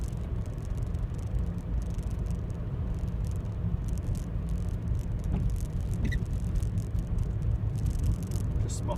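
A car cruises in fourth gear at about 29 mph on a clear road in Bletchley, Milton Keynes, heard from inside as a steady low engine drone and broadband road rumble with faint rattles, with no talking.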